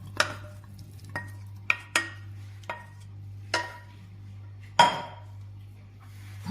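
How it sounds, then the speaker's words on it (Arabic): Cooked potatoes being mashed in a pan, a utensil striking the metal in about eight sharp, irregular clinks and knocks over a low steady hum, with no talk. "البطاطا تاعنا راهي طايبه هنايا، هاكا نمرسوها"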